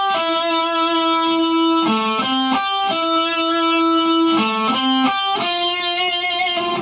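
Guitar part of a song played alone, a clean single-note line of sustained, ringing notes that shift pitch every second or so, with a few quick note changes in between.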